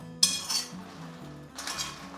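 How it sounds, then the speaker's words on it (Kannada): Dried red chillies, fully dry-roasted, rattling and clinking against a metal pan in two short bursts of stirring. "ಮೆಣಸಿನ್ಕಾಯಿ ಆರಿದ ಮೇಲೆ ಈ ಥರ ಗಳಗಳ ಶಬ್ದ ಬರುತ್ತೆ"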